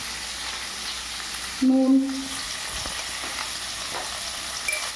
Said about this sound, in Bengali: দিয়ে ভালো করে আলুগুলো কষিয়ে নিতে হবে